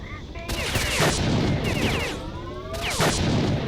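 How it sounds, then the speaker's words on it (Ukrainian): Heavy weapon fire from a Gauss gun in STALKER Shadow of Chernobyl, three powerful, loud, close blasts each with a sharp onset and long ringing, sweeping tail, spaced roughly a second apart. "Так, це гаус пушка."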